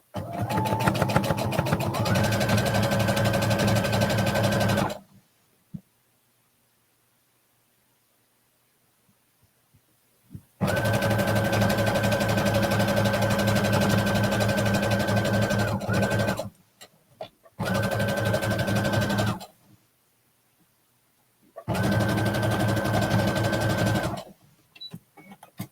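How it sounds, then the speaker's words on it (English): A sewing machine stitches a pocket piece onto fabric in three long bursts and one shorter one, a close, steady whirring hum separated by pauses of silence. "We're going to sew this pocket piece on."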